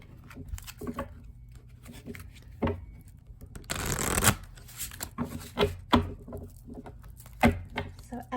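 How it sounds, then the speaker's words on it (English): A thick deck of tarot cards being shuffled in halves in repeated riffling bursts, with a longer dense riffle midway, close and fairly loud, with some quiet talk in between. "I still have trouble shuffling this deck because it's so thick"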